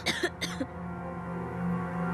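Two or three harsh coughs in quick succession at the start, then a steady low hum with no voices.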